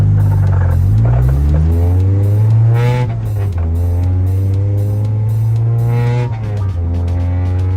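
A loud Toyota Celica engine revs hard up close, pitch climbing through gear shifts with short dips between, droning steadily throughout.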